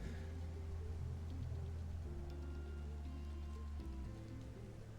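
Steady, dense rain falling in the sci-fi video game I Was a Teenage Exocolonist, a continuous close hiss with a low rumbling hum underneath, unbroken for the whole stretch and free of voices.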